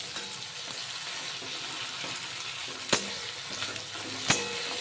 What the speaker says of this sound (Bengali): নাড়াচাড়া করে দেখুন টমেটো আর পেঁয়াজ প্রায় ভাজা ভাজা হয়ে গেছে।